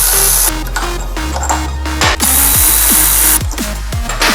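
Power tool whirring and ratcheting on brake caliper bolts of a Suzuki GSX-R motorcycle, loud and close, with repeated short bursts and stepping pitch changes over a steady buzz.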